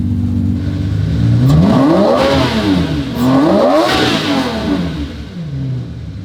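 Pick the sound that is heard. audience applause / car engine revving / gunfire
car engine revving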